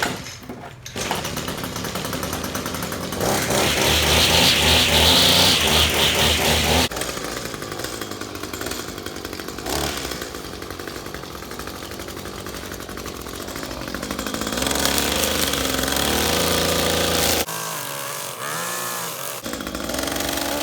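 An Echo string trimmer with a no-start fault fires up and runs, its small two-stroke engine buzzing loudly and close, revving up and settling back through changing speeds with no talking.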